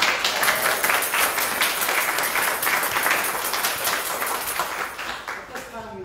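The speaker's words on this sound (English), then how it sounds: "Let's give them all a big round of applause." A church congregation at a Sunday Pride worship service breaks into sustained applause, dense steady clapping that fills the room and slowly tapers off near the end.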